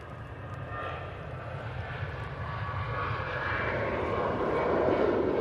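An airliner departing Manchester Airport, a deep rumbling jet roar that builds steadily louder over a few seconds as it powers away, with no talk.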